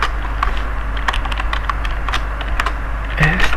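Rapid typing on a computer keyboard during a coding session, a close, dense patter of irregular key clicks with a low steady hum beneath.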